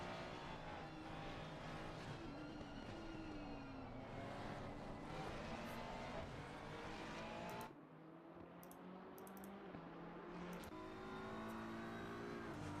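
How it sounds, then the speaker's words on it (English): A BMW GT3 race car in a sim racing game at Bathurst, its engine droning steadily and shifting pitch as it closes in, with brief dips between gear changes and ongoing race car noise throughout. "You can see the BMW that is approaching very rapidly"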